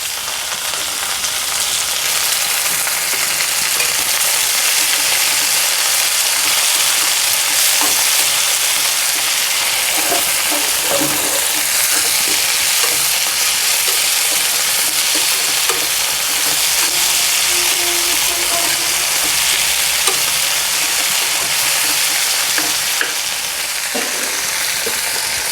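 Fenugreek leaves fry in a pan over a high flame with a loud, steady close sizzle that hisses on without a break, broken only by a few faint stirring taps.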